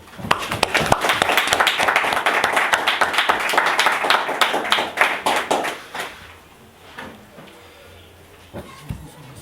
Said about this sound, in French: On peut applaudir déjà pour ça.